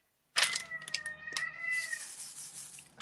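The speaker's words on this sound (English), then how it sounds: "Sounds like your cat is needing you." A cat meows several times in high, drawn-out cries that overlap into a near caterwaul, at moderate loudness and fairly close, with no talk.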